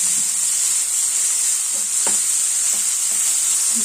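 Bitter gourd sautéing in a pan for a Kerala theeyal gives a steady, close, bright sizzle throughout, with a few soft stirring scrapes and clicks along the way and no talking.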